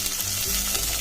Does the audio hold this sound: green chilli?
yes